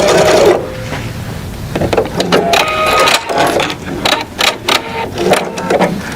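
Sewing machine stitching down a zipper, heard in close, uneven bursts of rapid mechanical chatter with short pauses between runs.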